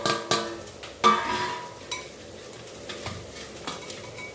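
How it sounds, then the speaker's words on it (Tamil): A spoon stirs tempered fenugreek seeds and mustard seeds into a dry buttermilk curry premix powder in a metal vessel. It gives sharp clinks and scrapes at an irregular pace, close and distinct, over a soft rustle of the stirred mixture. "இப்போ நம்ம இதை நல்லா கலக்கிக்கலாம்"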